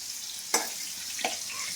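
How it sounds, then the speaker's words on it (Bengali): Cauliflower florets frying in hot oil give a steady soft sizzle, broken by two sharp clatters of a spatula or spoon in the pan, close and fairly quiet with no talking. "এখানে ফুলকপিগুলো ভাজা হয়ে গেছে কিছুটা, আমি তুলে নেবো, দেখেছেন হালকা হালকা করে ভাজা হয়েছে।"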